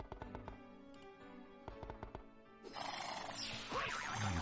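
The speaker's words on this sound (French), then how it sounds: "Ah, le super cheval." Horse neigh from the Lucky Chess Mate slot machine game, a synthetic whinny rising over a busy wash of electronic chimes and jingles, with tapping clicks early on before the music swells louder.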